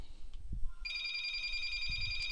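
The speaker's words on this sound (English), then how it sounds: "Our phone rings all the time." A telephone rings indoors with a steady electronic trill that starts partway in and holds to the end over low background rumble, and nobody speaks.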